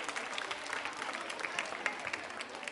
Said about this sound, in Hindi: तालियां तो बजती ही रहनी चाहिए, बजती ही रहनी चाहिए।